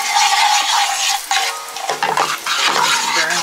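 Curry powder and ginger powder fry over medium-low heat as a spoon stirs them around a pan, giving a steady bright sizzle with scraping strokes that dip and return throughout, with no talking.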